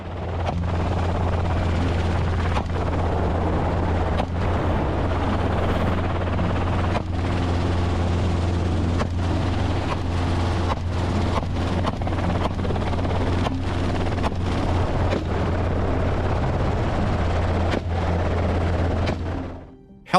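A helicopter used for hunting wild boar drones steadily and loudly overhead, a constant low rotor hum with sharp periodic cracks of gunfire, then cuts off abruptly at the end.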